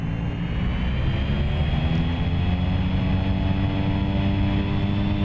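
A propeller plane engine in the X-Plane 11 flight simulator throttles up, a loud steady droning roar with a buzzing tone that rises gradually in pitch, continuous and close.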